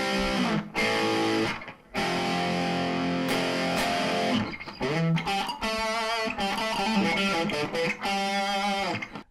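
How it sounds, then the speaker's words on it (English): An electric guitar played through a gain control set to add distortion, giving loud sustained overdriven chords, then choppier strummed and picked phrases with short gaps, heard alone without talk. "Now you're starting to hear a little distortion."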